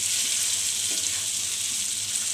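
Green moong dal roasts in a pan on low gas for halwa, making a steady, even hiss of frying without any break.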